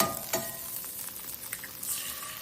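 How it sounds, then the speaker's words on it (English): Butter sizzles and caramelizes in a 9.5-inch Alva blue carbon steel pan over high induction heat, a steady close hiss with a few brief pops and scrapes. "See how that butter is caramelizing?"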